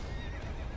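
A horse in the video game Elden Ring whinnies loudly as it dies, over steady clip-clopping hooves, a continuous, close, full sound with no talking.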